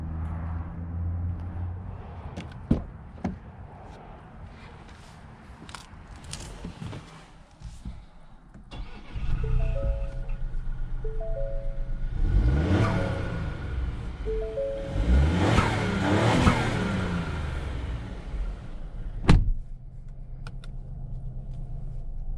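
A 2021 Ford Bronco Big Bend on a test drive, heard from inside the cabin: scattered clicks and handling noises first, then engine and road rumble building and swelling as it pulls away.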